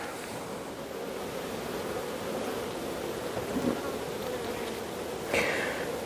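Honeybees in an open hive, kept over winter, give off a dense, steady buzzing hum, moderately loud and close, with a brief brighter buzz passing near the end and no speech.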